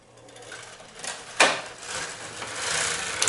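Knitting machine with both carriages working all needles on a zigzag row while knitting a double 1x1 rib neckband, giving a soft rattling, sliding mechanical run with a sharper clack midway, fairly close and moderately quiet.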